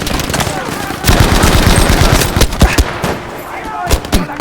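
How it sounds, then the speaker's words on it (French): Machine gun suppressive fire in a war video game, loud close bursts of rapid shots with sharp individual cracks and echoing reports, voices briefly heard beneath the gunfire. "Tir de suppression."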